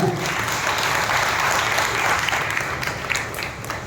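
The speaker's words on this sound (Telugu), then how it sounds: "ప్రభువును స్తుతిస్తూ బిగ్గరగా చప్పట్లు కొట్టి ప్రభువును భయపరుస్తాం" A church congregation clapping loudly together in praise at an evening worship service, a dense continuous burst of many hands that fades slightly toward the end.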